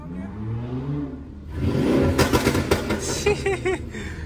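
Modded BMW G87 M2 driving at night: engine and exhaust revving up hard with rising whir and a few sharp crackling pops, heard from inside the car, with a voice talking over it.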